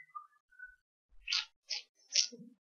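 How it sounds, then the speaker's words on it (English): A person whistles faintly somewhere in a room, a few short thin notes spaced apart in a brief, quiet tune. "Somebody is very happy, whistling."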